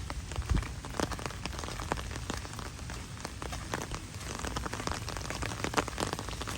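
Heavy rain pours steadily on a rainy outing, a dense, even patter of drops striking surfaces close by, with occasional sharper splashes and no talk.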